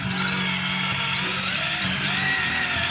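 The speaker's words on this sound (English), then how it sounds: "Now we're going to spin this counterclockwise with a drill and watch our auxiliary gauges." A hand drill steadily turns an engine counterclockwise to prime oil before cam break-in, giving a continuous whirring motor drone with a high-pitched whine throughout, close and fairly loud, with no talking.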